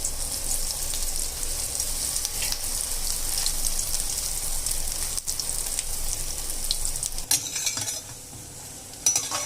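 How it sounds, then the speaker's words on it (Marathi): Bread slices fry in hot ghee over a medium gas flame for double ka meetha, giving a steady close sizzle and bubbling hiss with occasional soft stirring clinks and no voices. "हे बघा, मीडियम गॅसवर मी तळून घेतले।"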